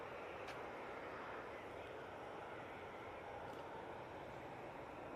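A Qatar Airways jet taking off from Manchester Airport, a steady, broad engine roar held at a distance with no let-up, while someone comments over it.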